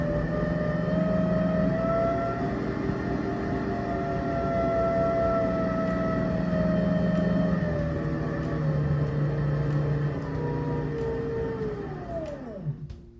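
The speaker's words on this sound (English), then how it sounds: "I'm going to let you listen now as we adjust the 1/3 horsepower motor to full speed" A Speedball Artista pottery wheel with a 1/3 horsepower motor running at full speed gives a loud, steady whine with high tones, then winds down in pitch at the end as it stops.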